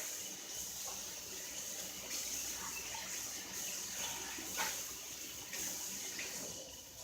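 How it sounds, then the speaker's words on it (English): Running tap water while hands and a bowl are washed at a kitchen sink after handling raw meat; a steady, fairly close rush of water with faint splashes and no speech. "I need to wash my hands because I was handling raw meat."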